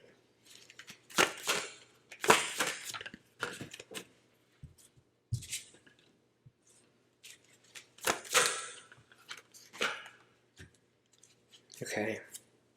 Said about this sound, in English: All right, let me just pull some tarot cards here,